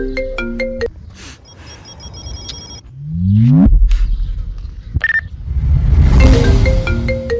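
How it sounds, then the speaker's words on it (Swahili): A mobile phone ringtone plays loudly nearby, a sequence of electronic tones and melodic beeps with rising sweeps and a noisy stretch mixed in, no talk over it. "Mbona simu yako ndio inaita?"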